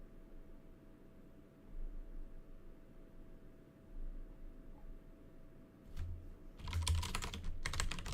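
Keys on a computer keyboard clack in a short, quick burst near the end after a stretch of quiet background hum, with faint scattered taps earlier.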